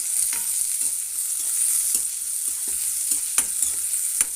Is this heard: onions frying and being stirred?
yes